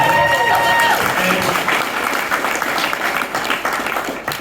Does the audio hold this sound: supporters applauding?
yes